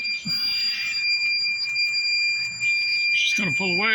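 A steady high-pitched electronic alarm beeps continuously beside an outdoor wood fire, loud and close, with a brief rising vocal whoop near the end.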